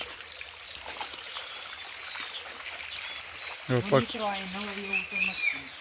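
Stream water rushing steadily near a waterfall in the countryside, a constant broadband wash with faint bird calls, while people talk close by over it in the second half.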